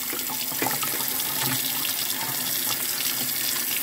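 Water running and splashing steadily as freshly washed green beans are drained in a kitchen sink, a continuous close wash of trickling and spattering with no talk.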